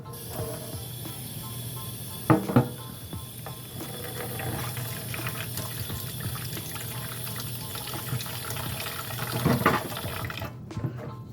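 Cold water runs steadily from a kitchen tap as homemade butter is washed, a constant close hiss of flowing water broken by a couple of brief splashes or knocks, then cut off abruptly at the end.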